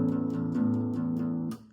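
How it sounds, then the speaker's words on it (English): Strumming on an acoustic guitar lets the low sixth string get caught, adding a booming bass note under a short run of even, close strums. No voices are heard, and the sound ends with a muted decay. "maybe you might strike that 6th string and it might sound like this."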